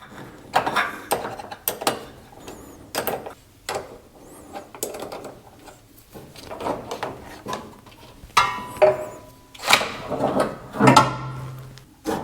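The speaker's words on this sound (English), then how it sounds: "let's go ahead and disconnect the battery and get it out of the way" Car battery being disconnected and pulled out during a battery strap install: a run of sharp mechanical clicks, ratcheting and clunks, some close and loud, with short pauses between, and no talk.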